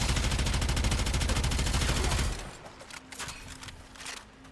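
The Twin Kohmak, a secondary weapon in a shooter game, fires a rapid, loud automatic burst for about two seconds, then cuts off, leaving a few quieter scattered shots and clatter.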